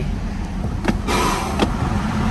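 Mitsubishi Triton pickup in two-wheel drive, engine running steadily with a continuous broadband rumble, a few brief clicks and knocks over it, no talking.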